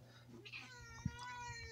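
A female cat meows insistently for attention, drawn-out plaintive cries close by, with a brief thump in the middle.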